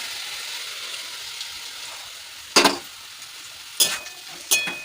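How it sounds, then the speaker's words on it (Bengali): Moong and masoor dal frying in oil with vegetables for oats khichuri, a soft steady sizzle broken by three sharp scrapes of a spoon stirring the pan. "এগুলো একটু ভেজে নেব মুগ মুসুরিটা সবজির সাথে"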